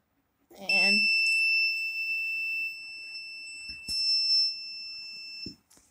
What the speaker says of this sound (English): the buzzer is making the sound